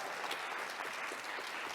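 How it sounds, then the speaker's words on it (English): Audience applause at a performing arts season announcement event: a steady, even patter of many hands clapping, heard from a distance and fairly soft throughout. "Let's give her a round of applause for that."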